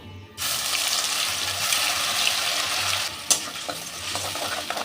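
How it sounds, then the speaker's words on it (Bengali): A paste of onion, ginger and chili hits hot oil after the whole spices are tempered. It sizzles loudly and constantly up close while a spatula scrapes and stirs it in short bursts. "পেঁয়াজটাকে আমি খুব ভালো করে ভেজে নেব"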